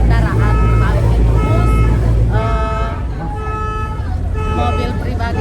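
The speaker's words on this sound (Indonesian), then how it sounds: "tadi sudah ada bunyi klakson-klaksonnya" Several vehicle horns toot in short bursts over a steady engine rumble aboard a car ferry on Lake Toba, with people talking nearby amid the vehicles.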